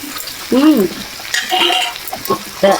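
Boiled potatoes fry and are stirred in a pan for singara filling, giving short bursts of sizzling and spoon scraping close up, with a brief vocal sound near the start.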